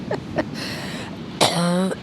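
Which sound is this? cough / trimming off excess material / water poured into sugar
cough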